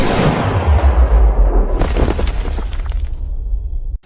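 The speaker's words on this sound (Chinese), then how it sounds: "此器一声轰鸣便能打穿树干" A firearm blasts in a costume drama set in an ancient dynasty: a loud, booming roar with rumbling low end that sustains and then crackles and decays, ending with a thin ringing tone before cutting off.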